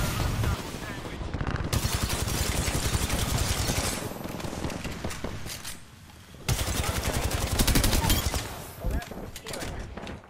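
Gunfire in the Apex Legends video game, loud sustained bursts of automatic weapon fire in long runs with a brief lull, close and rapid, with voices talking over it.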